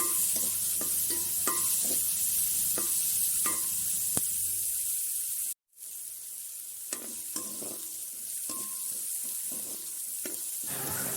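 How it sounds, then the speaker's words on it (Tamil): Small onions and cumin sauté in a pan for a cluster-bean curry. A soft sizzle runs under repeated spoon taps and stirring clicks, then stops for a brief silent gap and picks up again, with no talking. "சின்ன வெங்காயத்தை போட்டு நல்லா வதக்கி எடுத்துக்கொள்வோம்"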